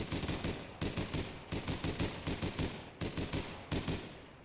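Rapid bursts of automatic gunfire from the Star weapon in the online shooter APB Reloaded, loud and close, firing in short controlled bursts of several shots separated by brief pauses, with no voices.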